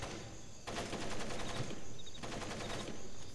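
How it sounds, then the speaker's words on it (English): Rapid bursts of automatic gunfire from the video game Splinter Cell Pandora Tomorrow, steady rattling volleys that pause briefly and resume, heard without speech. "I've got to listen to the constant gunfire and your constant complaining."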